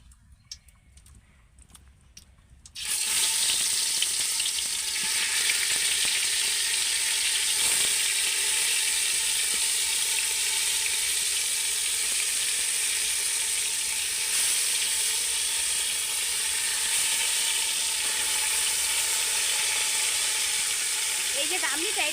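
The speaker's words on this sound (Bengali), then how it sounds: "এবার আমি ম্যারিনেট করা মাংসটা তেলের মধ্যে দিয়ে দেবো" Marinated chicken hits hot oil and ghee for Bengali-style chicken biryani, bursting into a loud, steady sizzle after a quiet start and frying continuously to the end.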